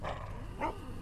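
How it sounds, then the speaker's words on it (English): Dog barking and growling in The Walking Dead Season Two video game, a short burst of snarling barks, the louder yelp near the end over a low rumbling game background. "Shut up, dog."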